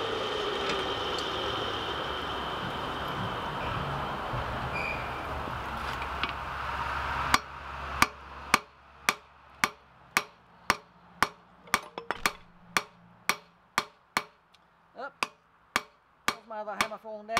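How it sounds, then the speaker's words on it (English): Hammer striking an old rusty anvil in a forge, a string of sharp ringing metallic blows at a steady rhythm, loud and close, following a stretch of loud broadband noise. "The hammer falling down."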